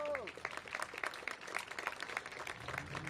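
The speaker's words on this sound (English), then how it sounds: "Give them a round of applause." An audience at a ribbon-cutting for a family housing program claps steadily for about three seconds, a moderate wash of applause with a voice trailing off at the start.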